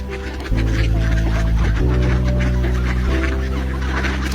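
Geese honking and gabbling loudly up close while being hand-fed in a park in Oslo, Norway, with overlapping harsh calls and a steady busy background.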